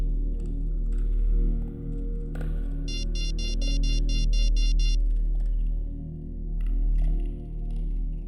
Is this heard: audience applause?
no